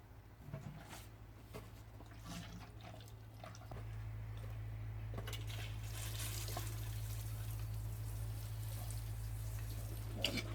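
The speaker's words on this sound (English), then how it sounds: "But what I think I'll do is put a bit of water on top first." Water poured gently over freshly sown pea seeds in Rootrainers, a soft steady trickle that swells after a few seconds over a low background hum.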